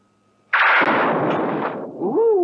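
A weapon mounted on a robot arm fires in a 1984 film, a sudden loud blast that roars on for over a second before a whining tone rises as it fades.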